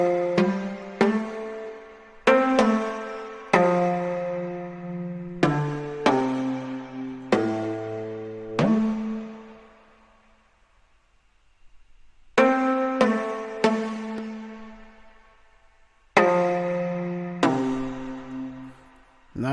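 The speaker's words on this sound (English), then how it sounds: "It's analog strings, and it's the EDM Islands pluck." A pluck synth melody built from analog strings and an EDM pluck patch in Kontakt plays a chorus line of short, bright, decaying notes, with a long sustained note fading near the middle before the phrase resumes, alone and clear.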